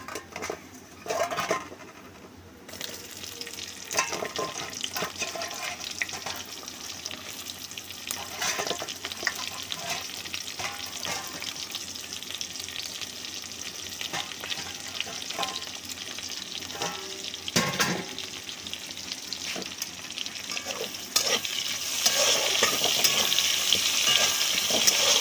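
Prawns frying with papaya and potato in a pan, a continuous sizzle broken by stirring scrapes and occasional clinks of the utensil, louder and brighter near the end, with no talking.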